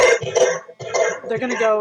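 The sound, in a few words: cough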